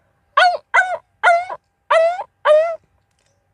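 A voice imitates a puppy with five short whiny yelps in a row, evenly spaced and fairly loud, with no other sound around them.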